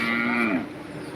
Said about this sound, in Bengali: কুষ্টিয়া মেহেরপুরের গরু বড় বড় গরু সুঠাম দেহের গরু সুন্দর সুন্দর গরু